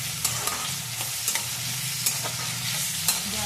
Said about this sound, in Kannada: ಆಮೇಲೆ ಒಂದು ಸ್ವಲ್ಪ ಇದು ಬಟಾಟೆ ಹಾಕ್ತೀನಿ. ಬಟಾಟೆ ಫ್ರೈ ಮಾಡ್ಕೊಂಡು